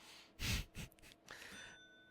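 A small magnetic bell is struck during a poker stream, a bright ringing tone that lingers and fades after some breathy noise, quiet and close.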